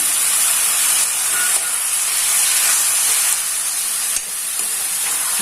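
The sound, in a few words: chicken added to sizzling pan with ginger garlic paste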